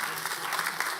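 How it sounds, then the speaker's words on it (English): A crowd claps at a respiratory therapy pinning ceremony, with a brief stretch of steady, fairly close clapping. "I can go ahead and clap."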